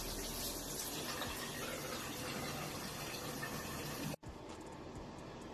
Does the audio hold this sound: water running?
yes